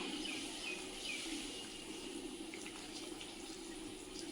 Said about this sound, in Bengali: এবার আমি এই যে গরম জলটা এর মধ্যে দিয়ে দেব।